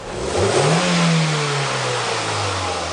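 A Toyota Echo 1.3-litre engine with a hesitation fault revs hard under load, pitch climbing then holding as the car accelerates, loud and close with no voices.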